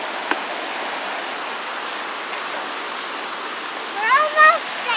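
A river runs down into the ocean at a beach lagoon, giving a steady broadband rushing wash of water throughout, with a brief voice-like sound rising near the end.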